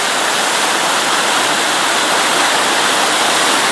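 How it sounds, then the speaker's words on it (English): A small set of falls on a creek along the Middle Prong Trail in the Smoky Mountains roars in a steady, dense rush of falling water, close and loud throughout with no other sounds. "Looking down the river, creek I guess, and onto a neat little set of falls right here looking up."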